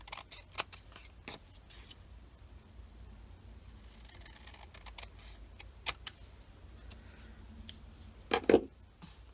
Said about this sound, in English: I'm going to cut along those lines.